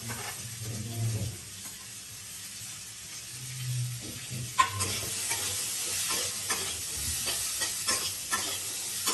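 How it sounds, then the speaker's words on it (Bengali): Potatoes fry in hot oil with a continuous close sizzle and hiss, broken by scraping stirring strokes and a sharper crackle partway through. "আলুগুলো ছেড়ে দিলাম।"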